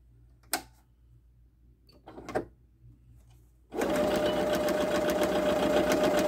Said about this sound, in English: I'm going to sew a straight stitch and show you how nice the stitch is